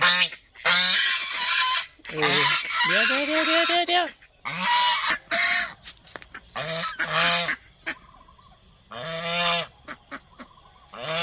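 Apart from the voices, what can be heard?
geese honking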